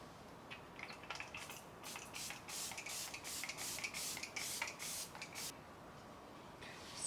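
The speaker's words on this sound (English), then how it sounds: "This is the new Impeccable setting spray" Anastasia Beverly Hills Impeccable setting spray misted in a rapid series of short, soft hissing bursts, close and quiet, with no talking.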